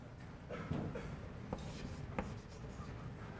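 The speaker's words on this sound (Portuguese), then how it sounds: "Então eu vou escrever isso aqui." Quiet scratching strokes of writing on a board during a calculus lecture on limits, short rubbing marks with a few sharper taps, heard faintly against room ambience without speech.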